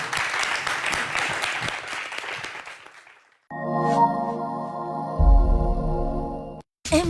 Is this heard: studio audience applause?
yes